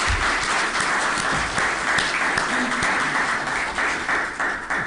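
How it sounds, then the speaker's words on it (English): A room full of people at a Chamber of Commerce election forum gives the candidates a round of applause, a loud, continuous roar of clapping that stays steady throughout and tapers slightly at the end. "Let's give these candidates a round of applause."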